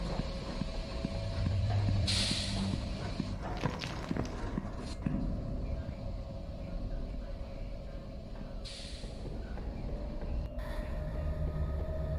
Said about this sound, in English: It's so loud. It's some kind of steam engine.